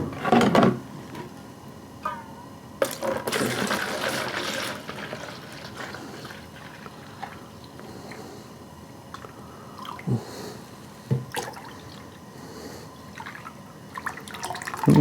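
Brandy slush mixture poured into a container, a wet liquid pour with splashing and squishing in bursts, then quieter intermittent drips and small knocks, close up with no talk.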